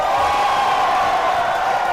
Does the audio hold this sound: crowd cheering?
yes